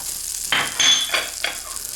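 An empty pan preheated for about three minutes on a stove sizzles steadily and close. A few short scraping bursts break through the hiss.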